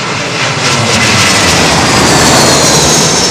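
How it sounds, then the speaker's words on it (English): Boeing 747 jetliner with older engines arriving at London Heathrow on runway 27L, a loud, steady, broadband jet roar that swells slightly as it passes close overhead, with no voices. "747s with older engines"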